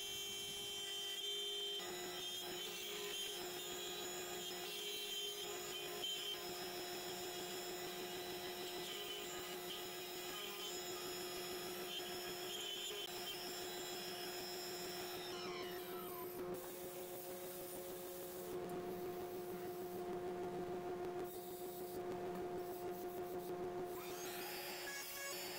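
A CNC router clears a pocket in hardwood and then cuts with a 60-degree V-bit, producing a steady, loud, continuous whir with spindle tones and a grinding bite that shifts partway through.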